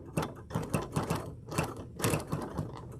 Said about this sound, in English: I'm going to sew down here